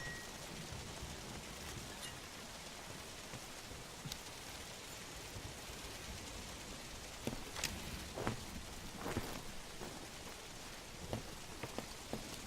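Steady, dense rain pours across a Metal Gear Solid V game scene, an even hiss with scattered sharper drop impacts and a few faint clicks, no talking.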